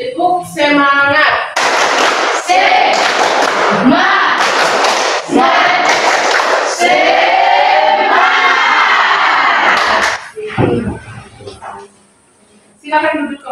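Indonesian classroom of children performing a rhythmic clapping cheer, bursts of claps and loud group chanting in quick patterns, with a teacher's voice briefly at the end.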